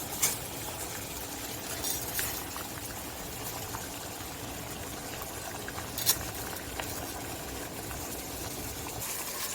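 Pasta boils in a pot of salted water with a steady, faint bubbling hiss, broken by a few soft clinks and taps.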